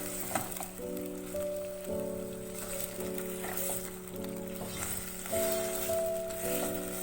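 Garlic ginger paste frying in a pan for aloo gosht, giving a steady sizzling hiss with occasional stirring scrapes, heard under a sustained tonal background.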